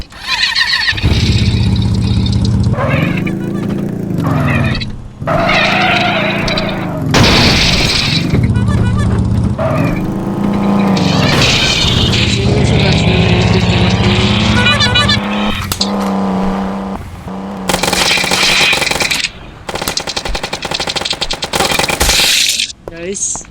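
A motorbike is ridden in a Free Fire-style mobile shooting game, its engine revving up and down in repeated rising and falling surges, loud and close, with gunshot-like booms and game effects near the end.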